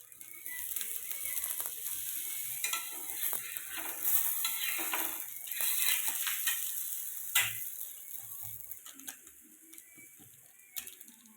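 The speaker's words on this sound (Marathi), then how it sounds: "गॅसची फ्लेम लो ठेवली आहे थालीपीठ भाजण्यासाठी" Thalipeeth, a fasting flatbread, roasting in a pan over a low gas flame, giving a steady soft sizzle with scattered small clicks and scrapes of utensils, close and continuous with no talk.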